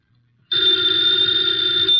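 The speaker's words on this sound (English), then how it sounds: "the ringing of that phone bell brings you mystery, adventure" A loud, continuous telephone bell rings out suddenly after a near-silent moment, steady and metallic, close and alone.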